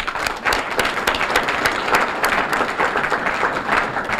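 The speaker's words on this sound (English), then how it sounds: "let's have a big round of applause" Audience at a town State of the Town address gives a big, steady round of applause, many hands clapping together in a dense, even roar that holds at full strength throughout, with no voices over it.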